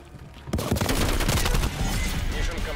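Gunfire in Call of Duty: Black Ops Cold War on the Nuketown map erupts after a brief pause, a dense, loud volley of overlapping shots that thins slightly toward the end.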